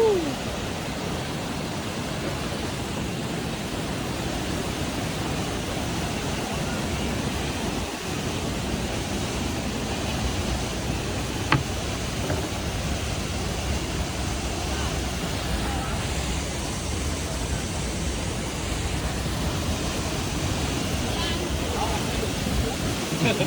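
Jok Kradin waterfall near E-Tong, Pilok, heard as a steady broadband rush of falling water that stays even and close throughout, with no clear talk over it.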